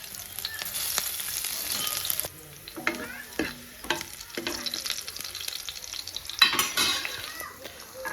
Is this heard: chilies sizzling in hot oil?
yes